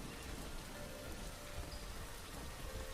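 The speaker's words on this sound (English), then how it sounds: "It's raining, your temperature is gonna drop." Steady rain in The Isle video game, a dense, even hiss of falling water with no talk over it.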